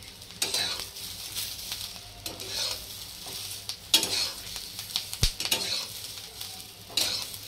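Coriander seeds dry roast in a pan and are stirred, giving soft rustling scrapes and occasional sharp ticks and knocks of a utensil against the pan, uneven in rhythm and close by.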